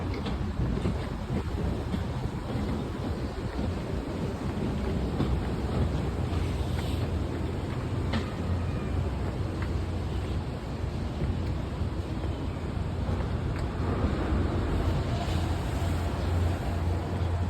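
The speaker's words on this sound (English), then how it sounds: "They run a lot of these boats." A steady low engine drone and water wash from boats running nearby at the Dollywood theme park, with a broad rumbling hiss throughout and no talking.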